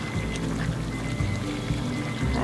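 About a cup of barbecue sauce is poured into a pot of simmering pulled pork, a continuous, close glugging and splashing pour that runs without a break and with no talk.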